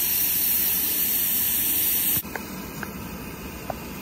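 Steam hissing from a blowing gland on a small steam locomotive, a loud continuous hiss that suddenly drops to a quieter steady leak halfway through, with a few faint clanks behind it.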